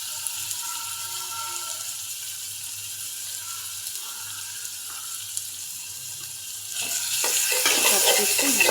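Fish with turmeric, chili powder, coriander powder and salt stir-fried in a pan, a soft steady sizzle with light scraping that grows louder and brighter near the end, no talk.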